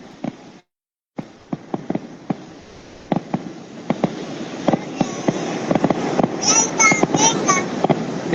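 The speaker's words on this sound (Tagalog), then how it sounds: "Wow, fireworks." Scattered pops and bangs of fireworks go off at a distance, irregular and growing busier, with faint chatter and a voice.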